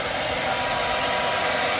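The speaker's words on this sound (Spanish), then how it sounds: "Ay, el secador." A hair dryer blows steadily during a home hairstyling session, a constant close whooshing hiss with an even motor tone, loud and unchanging, with nobody speaking.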